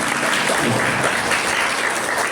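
A room of primary school pupils and guests applauds a classmate at a Maulid Nabi gathering, steady clapping from many hands throughout with a faint voice underneath.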